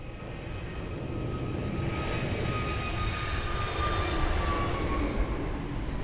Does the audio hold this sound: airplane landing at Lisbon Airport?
yes